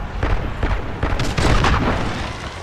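A heavy explosion goes off in the zombies mode of the video game Call of Duty Warzone, a loud booming blast whose rumble swells and rolls on for a couple of seconds.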